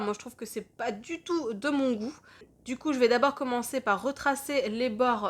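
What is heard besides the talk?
No everyday noise stands out behind the speech.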